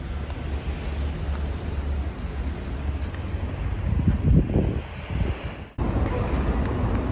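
Wind buffets the microphone in a steady, low rumble, swelling briefly in gusts, with a faint wash of water in the background, at the seaside in Italy on a hot day.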